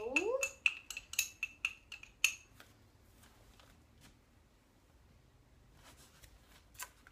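Lucuma powder tapped out of a bowl, a quick run of sharp clinking taps at the start, then quiet, with a few faint knocks near the end.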